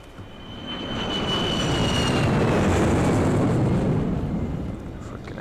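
Aircraft engine roar from the PC game Sniper: Ghost Warrior swells to a broad, heavy rumble with a whining tone, then gradually eases as it passes.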